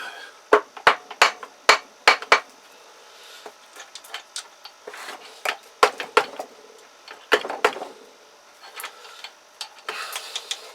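Sharp hammer blows ring out in quick bursts during engine work on a Kawasaki GPZ500S motorcycle, several strikes in a row with pauses between, close and fairly loud.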